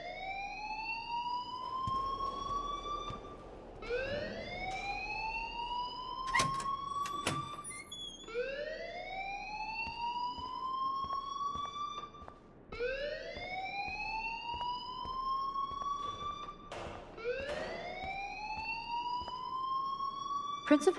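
School fire alarm in Life Is Strange, a repeating rising electronic whoop that sweeps upward every few seconds, loud and continuous with brief sharp clatters in between.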